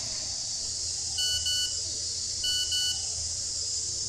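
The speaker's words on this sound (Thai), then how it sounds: "มีเมสเซจมา" A phone's message notification chimes twice, each a short pair of bright electronic beeps, over a steady background hiss with no speech.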